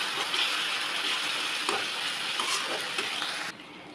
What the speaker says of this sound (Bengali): সাথে দিয়ে দিচ্ছি 1/2 চামচ রসুন বাটা, দিয়ে আবারও একটু নেড়ে নেব।